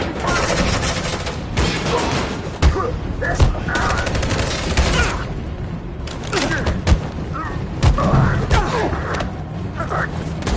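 Sustained suppressing fire in a console shooter game: dense, overlapping bursts of gunfire and booming impacts roll on throughout, with voices shouting orders over the shooting.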